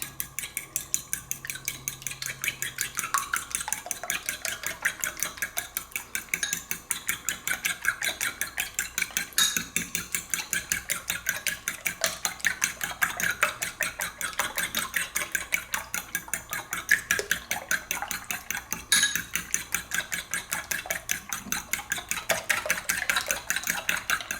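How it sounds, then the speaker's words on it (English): Eggs are whisked with a quarter teaspoon of water in a bowl for a lobster and asparagus omelet: fast, even clicking strokes against the bowl that keep a steady rhythm throughout, with no talking. "Just give it a whisking."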